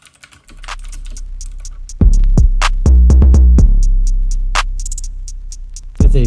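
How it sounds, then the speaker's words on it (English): Someone types quickly on a Royal Kludge RK71 mechanical keyboard, producing close, crisp, rapid clacks in dense runs with brief pauses and a faint hum underneath. "now I will do a typing test to give you an idea of how the key sounds like"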